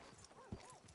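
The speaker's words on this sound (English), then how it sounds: "Are you gonna mount that new horse of yours or not?" Horse hooves clip-clop in the Red Dead Redemption 2 video game, a brief steady patter with one louder thump midway, heard near and mixed with a horse's whinny.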